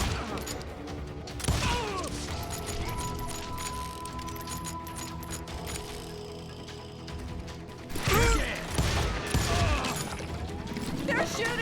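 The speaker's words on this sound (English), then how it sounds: "They're shooting in the street!" Gunfire erupts in a frontier town street during a Call of Juarez Gunslinger shootout, loud bursts of shots at the start and again near the end, with mechanical clicking and clatter between them.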